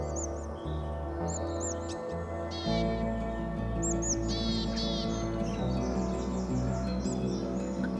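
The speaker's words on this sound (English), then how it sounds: "using handheld speakers to play willow tit calls in all areas of suitable habitat" Willow tit calls played back from a handheld speaker in riverside habitat, with short repeated chirping notes bursting out over a steady tonal hum.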